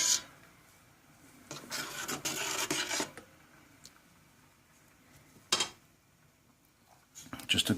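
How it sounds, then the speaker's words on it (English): Homemade mozzarella being stirred in a pot, giving soft scraping and rubbing bursts that come and go in a few separate passes, with quiet pauses between them. "I'm just gonna give it a quick stir"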